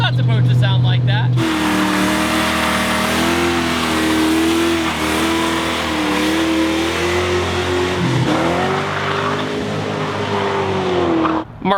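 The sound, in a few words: Nissan 240 with swapped V8 engine driving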